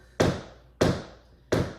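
A tap dancer's knock, or toe jab, hits the floor with the toe three times at an even, unhurried pace, each strike a crisp, close wooden tap.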